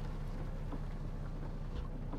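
Rain falls on a Volvo VNL truck in American Truck Simulator as a steady, soft hiss with a low rumble beneath it. No voices are heard.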